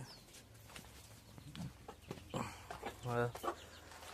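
Chickens cluck and squawk close by in short, irregular bursts, with one louder rising call near the end, over a quiet outdoor background.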